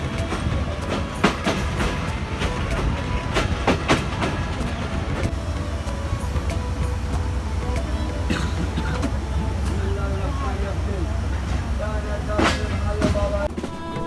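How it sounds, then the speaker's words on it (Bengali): A Bangladeshi passenger train heading toward Jessore rolls along with a continuous low rumble, broken by repeated sharp clickety-clack rail joints and metallic squeals, heard steadily from on board. "কিছুক্ষণ স্টেশনে ট্রেনটি দাঁড়িয়ে থাকার পর আবারও চলতে শুরু করলো যশোরের উদ্দেশ্যে।"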